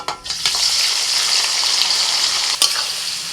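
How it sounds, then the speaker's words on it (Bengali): Chopped onion drops into hot white oil in a wok and fries with a loud, steady sizzling hiss, a brief clatter near the start and another spatula knock toward the end. "কড়াইতে সাদা তেল দিয়ে দিয়েছি, এবার চিকেন মোহারানিটা রান্না করব। তো প্রথমে দিয়ে দিচ্ছি পেঁয়াজ কুচি,"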